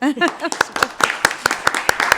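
A voice speaks briefly, then sharp hand claps ring out at a steady rhythm, about eight distinct claps, fairly close and loud, at a panel discussion.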